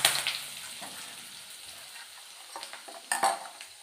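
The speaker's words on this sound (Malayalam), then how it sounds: "കടുക് പൊട്ടി വന്നപ്പോൾ കറിവേപ്പിലയും വറ്റൽമുളകോടെ ഇട്ട് കൊടുക്കാം" Curry leaves and dried red chillies hit hot coconut oil with spluttering mustard seeds, crackling sharply at first, then settling into a soft sizzle with spoon scrapes and a fresh burst of popping near the end.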